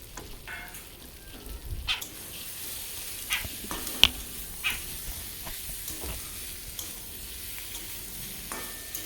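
Fried prawns are stirred in a spice masala in a pan for a Bengali prawn curry, with faint sizzling and sparse, irregular clinks and scrapes of a spatula, quiet and close.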